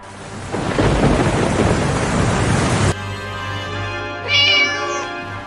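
Heavy rain and a thunder rumble roar, then cut off, followed by a short cat meow over a quieter background hum.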